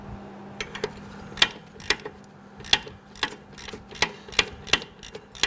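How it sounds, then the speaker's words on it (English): Ratchet or wrench clicks while tightening the caliper bracket bolts on the rear brakes of a 2011-2017 Nissan Quest, a series of sharp, close, irregular mechanical clicks over a faint low hum. "Let's go ahead and tighten down our caliper bracket bolts."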